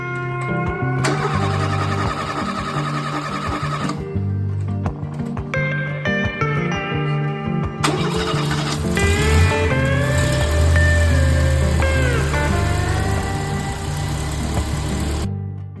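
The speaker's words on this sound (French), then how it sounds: "On remet le moteur à sa place et puis on tourne la clé." A Renault 4L being readied for the 4L Trophy rally has its engine started with a turn of the key, then settles into a steady, close mid-pitched idle with some tonal whine over the running motor.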